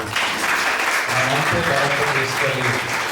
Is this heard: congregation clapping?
yes